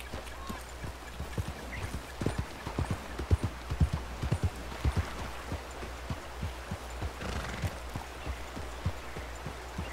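Horse hooves clip-clop at a steady walking rhythm in Red Dead Redemption, moderately loud against a low ambient bed, with a voice talking faintly at times.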